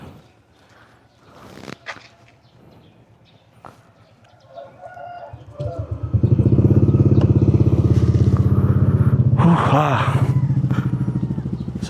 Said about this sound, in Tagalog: Dito tayo magpainit ng makina.